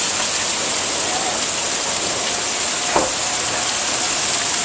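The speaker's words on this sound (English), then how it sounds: "that's why it's raining" Heavy rain pours steadily during a lightning storm, a dense continuous hiss with one brief crackle midway and no voices.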